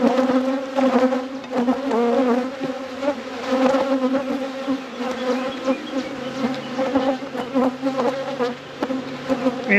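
Dense, continuous buzzing of many honeybees from an opened deep hive during a spring inspection after winter, loud and steady throughout with no talking.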